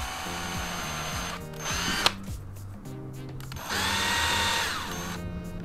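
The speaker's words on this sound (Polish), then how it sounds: "Nawiercamy odrobinkę, tylko tyle, żeby wkręt nam się dobrze..." A power drill bores a shallow pilot hole into a wooden board for a screw, its motor whining in close, loud bursts that rise and fall in pitch, stopping and starting several times with short pauses between.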